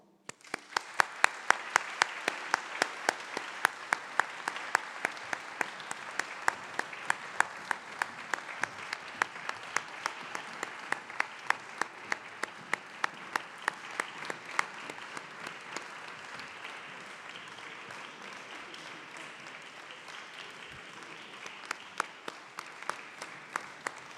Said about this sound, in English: Let's welcome our graduating class, MIB 20, with a big applause.